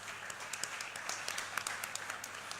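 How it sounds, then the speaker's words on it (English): An audience applauds after a poetry reading at a book party, with soft, scattered clapping heard at a distance and fairly faint throughout. "A round of applause for him,"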